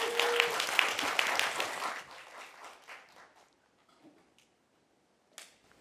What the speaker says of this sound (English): So give a round of applause for Ken.